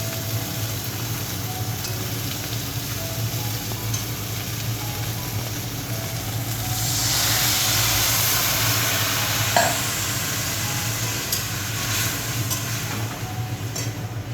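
Broth poured over small mourala fish and ridge gourd cooking in a pan, a steady close sizzle that swells into a louder bubbling hiss midway, then settles back, with no voices.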